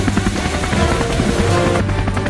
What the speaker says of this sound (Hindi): अरे वहाँ अबे वो हेलीकॉप्टर।